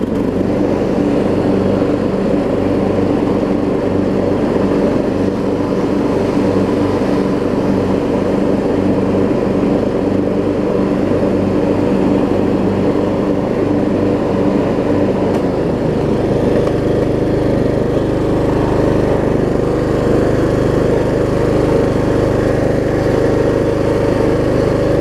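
The engine of a Troy-Bilt Bronco riding mower, a Kohler-to-Briggs repower, runs with the blades engaged. A steady, loud, close mechanical drone continues throughout, and its low tone shifts partway through as the load changes.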